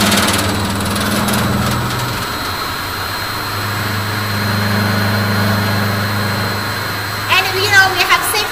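An FDG dispersing machine mixer runs at high speed, a loud continuous motor drone and whir that holds steady, with a few sharp clatters near the end.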